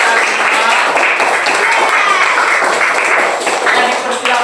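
A group claps together in a lively burst of applause during a floor gymnastics lesson, steady dense clapping lasting several seconds and tapering slightly near the end.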